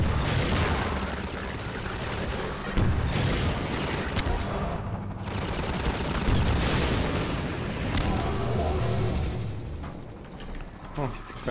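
Rapid bursts of gunfire and booms from the video game Half-Life 2 crackle through a busy soundscape, with talking over the shooting throughout.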